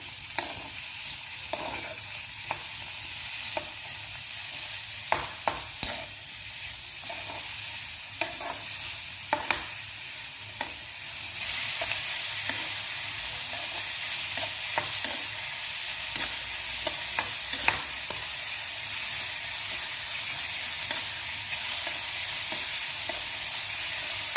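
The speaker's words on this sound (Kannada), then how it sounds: "ಮಶ್ರೂಮ್ ಹಾಕ್ಕೊಂಡ್ರಿ. ಈಗ ಇದು ಚಲೋ ತಂಗ ಎಣ್ಣೆಯಾಗ ಫ್ರೈ ಆಗಲಿ." Mushrooms fry in hot oil in a pan for a mushroom curry, a steady broadband sizzle broken by repeated sharp scrapes and clinks of a stirring spoon, growing denser and louder about halfway through, with no voices.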